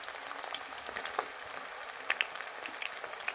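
Brinjal pakodi fry in oil at full heat, a faint steady crackle with scattered small pops and bubbling.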